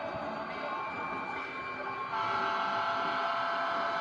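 An HO scale Southern Railway model locomotive with flashing ditch lights runs on a 6 by 8 ft home layout, giving a steady, close motor hum and rolling rattle that grows slightly louder partway through.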